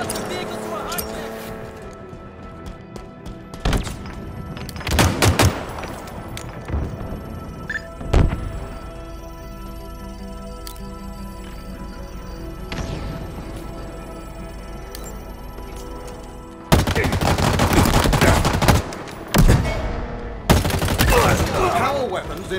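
Bursts of gunfire from Halo Infinite multiplayer on the Behemoth map, with sharp shots and rapid volleys coming in clusters and a heavy sustained barrage near the end, mixed with vehicle noise and game effects.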